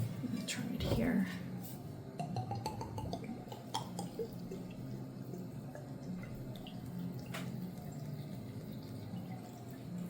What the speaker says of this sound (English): what I'm going to do is just simply pour the whiskey in